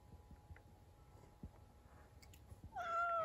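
A single cat meow rises near the end after quiet, faint rustling and small clicks.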